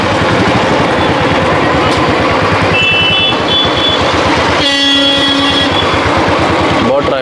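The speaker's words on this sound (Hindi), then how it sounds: "बहुत ट्रैफिक है गाइस।" Heavy road traffic in Udaipur near Lake Pichola: loud, continuous engine rumble with horn blasts sounding over it, including a longer honk in the middle, and a voice talking under the din.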